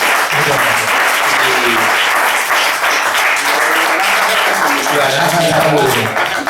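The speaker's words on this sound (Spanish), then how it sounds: "vamos a dar un aplauso a Javier" An audience in a library applauds the author Javier after a talk on his book, with dense, steady clapping that fills the whole stretch. Voices murmur underneath the clapping throughout.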